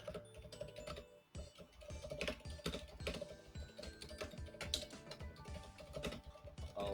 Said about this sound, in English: That's probably me typing. Yeah. I have a mechanical keyboard right next to the mic